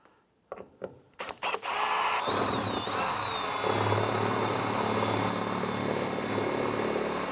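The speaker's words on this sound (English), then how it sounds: "We're simply going to drill out these two rivets." A power drill whirs in a few short bursts, then runs continuously and loud, grinding steadily through metal up close as it drills out two door handle rivets on a 1993-1997 Ford Ranger.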